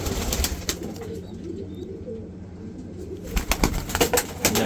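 Racing pigeons from a long-distance loft coo softly with low murmuring calls, accompanied by some rustling and a few sharper bursts near the end.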